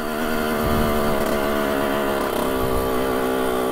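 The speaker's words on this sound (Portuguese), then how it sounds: "É alguém que corre de moto e treina aqui em cima." A dirt bike ridden on a nearby dirt track, its engine droning loudly and continuously, with the pitch rising and falling as the rider works the throttle; no one speaks.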